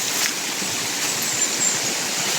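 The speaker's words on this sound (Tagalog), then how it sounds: "Diyan pala talaga galing yung mainit na tubig." Hot spring water flows steadily at an abandoned resort, a continuous close rushing wash with no pauses and no voices.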